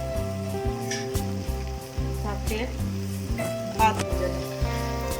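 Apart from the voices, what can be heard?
gulab jamun frying in hot oil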